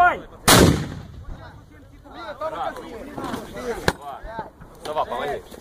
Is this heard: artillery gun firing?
yes